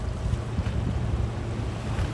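A Suzuki Jimny SUV pushes through deep water, water churning at bumper level, giving a steady, loud low rumble and sloshing with wind noise across the microphone.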